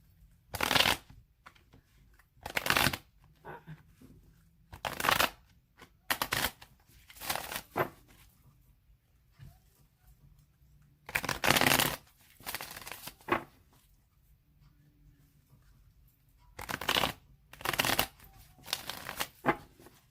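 A deck of tarot-style cards is shuffled repeatedly by hand, close crisp riffling bursts separated by quiet pauses, with faint soft speech in between.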